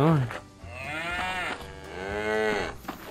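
Cows in Survivalcraft 2 moo in long, loud, drawn-out calls, one after another in close succession, with a faint voice in the background.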